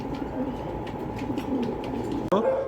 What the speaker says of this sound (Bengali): আজকে বেশ কিছু রেসার কবুতর নিয়ে আসছি আপনাদের জন্য